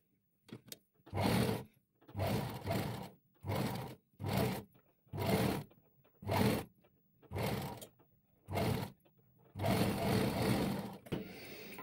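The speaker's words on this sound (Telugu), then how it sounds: "క్లాత్ని క్యాన్వాస్ పైకి ఈ విధంగా మడిచి స్టిచ్ వేసుకుందామండి." A sewing machine stitches cloth folded over canvas for a boatneck blouse back neck, running in about nine separate close, loud bursts of rapid whirring, separated by short silent pauses.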